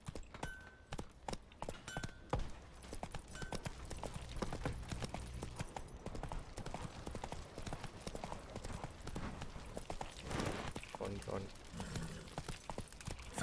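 Hoofbeats of a horse galloping in The Witcher 3 video game, a steady clip-clop running throughout under game music and effects, with voices talking over it.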